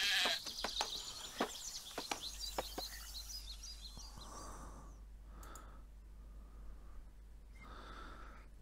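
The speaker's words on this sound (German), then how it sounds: "Blödes Schaf." Sheep bleats from the video game Craft The World, a few short calls spaced out in the second half over a steady game background hum, with quick clicks and ticks earlier.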